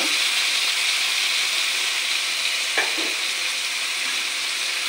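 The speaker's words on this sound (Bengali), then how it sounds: "আমার মাছটা দেখো ভাজা ভাজা হয়ে গেছে।" Fish sizzles steadily as it fries in a pan, a dense, even hiss that fills the whole stretch, close and loud, with one brief sharper crackle partway through.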